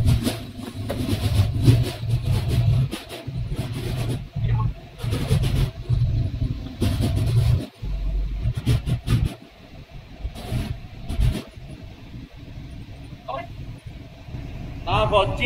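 Ford Maverick V8 pulling away, its deep, rough engine rumble loud and close, swelling and easing as the car manoeuvres and drives off, with people talking over it at times.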